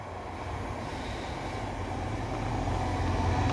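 A diverted TransPennine Express Class 185 diesel train passes through Broughton Lane Junction. Its steady rumble grows slowly louder, with no voices.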